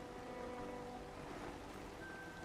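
Steady rain falling in a hunting video game set in Scotland, a dense continuous hiss at low volume without breaks.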